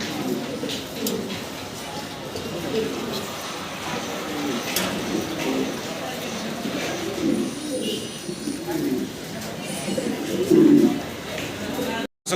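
A pair of large Roman pigeons coo in soft, low repeated phrases close by, with steady background noise underneath and a voice talking over them for most of the stretch.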